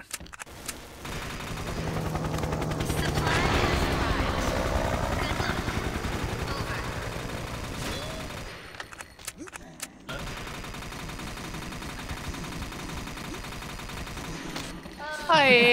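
Dual Bamboo Duo XM8 guns fire in sustained rapid bursts in the XSHOT shooter while fighting Evo mummies, loud at first and then thinner, with game effects and a player talking.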